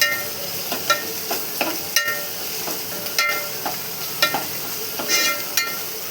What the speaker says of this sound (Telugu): అల్లం పేస్ట్, కొంచెం పసుపు వేసుకొని పచ్చివాసన పోయేదానికి వేయించుకోవాలి.